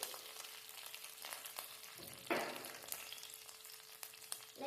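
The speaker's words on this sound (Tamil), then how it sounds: "லைட்டாக கிளறிக்கலாம். பார்த்து கிண்டுங்க." Kashmiri chilli powder and turmeric fry in oil in a pan for potato gravy, a quiet continuous sizzle with a single louder stir-scrape midway and faint clicks, nobody speaking.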